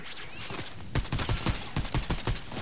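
Rapid gunfire in a multiplayer shooter game, taken as sniper fire, cracks out in a dense run of sharp shots that speed up into an irregular volley over a couple of seconds, with no voices.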